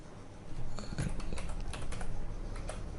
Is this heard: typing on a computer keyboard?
yes